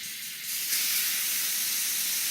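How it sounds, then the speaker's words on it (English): Water fizzing and hissing as hot rocks heat it in a bamboo bowl, a steady close, broadband steam-like hiss that swells after a brief quieter start and holds continuously. "the water is starting to fizz"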